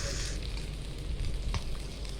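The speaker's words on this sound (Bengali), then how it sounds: "মা আলুগুলো ভাজতে শুরু করে দিয়েছে, আস্তে আস্তে আলুগুলো ভাজা শুরু হয়ে গেছে" Potatoes frying in oil for biryani, a quiet steady sizzle with soft crackles, close by.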